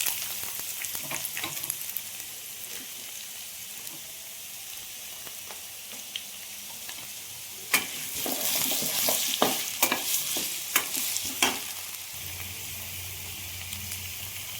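Sliced onions and dried red chillies fry in oil for chicken curry, giving a soft steady sizzle with scattered stirring scrapes that grow busier and louder partway through, with no talking.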